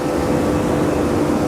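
Saxdor 270 sports boat running at speed, about 40 knots and 5,900 rpm, its engine giving a steady, loud, continuous drone with broadband wind and water rush throughout and no talking.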